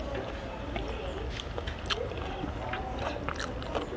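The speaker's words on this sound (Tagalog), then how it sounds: "Hindi naman taba, pero hindi naman malambot naman siya. Kaya tumutunog pag kinakain." Firm, non-fatty chicken meat is chewed noisily close up, with repeated soft crunching bites over a steady background hiss.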